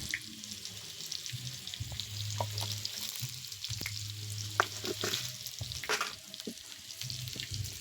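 Ingredients for a village-style chicken biryani fry in a kadai with a soft, steady sizzle, broken by occasional scrapes and clinks of stirring, quiet and close.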